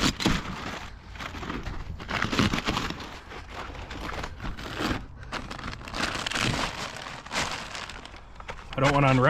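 Plastic wrap crinkling and rustling on a stacked lumber pile, loud close-up crackling bursts coming in irregular waves, with brief handling noises near the end.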